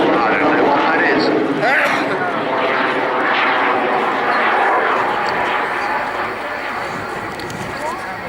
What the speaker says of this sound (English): rolled the aircraft the right way up and pulling up into another loop